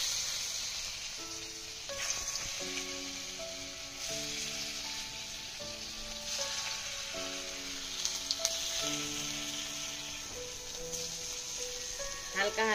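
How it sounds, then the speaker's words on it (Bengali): Dhoka lentil cakes fry in oil in a wok with a continuous close sizzle, while a melodic tune plays in the background. "এবারে ধোকাগুলো ভেজে নিচ্ছি।"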